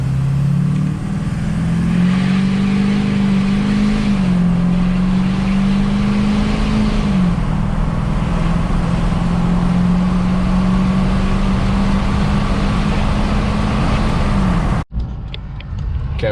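LLY Duramax diesel pickup pulls hard under acceleration, a loud steady low drone rising gradually in pitch, with no talk, ending in an abrupt cutoff near the end.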